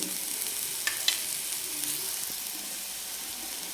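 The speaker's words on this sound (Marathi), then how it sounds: "असा कोरडाच कांदा टाकल्यानंतर लवकर भाजला जातो" Dry onion fries and is stirred in a pan with no oil, a soft continuous sizzle with a few light scraping clicks of the utensil, fairly quiet and without talk.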